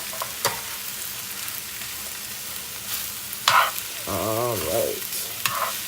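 Vegan soy chorizo and vegetables frying in a big pan, a broad steady sizzle with occasional stirring clatters; a voice speaks briefly near the end.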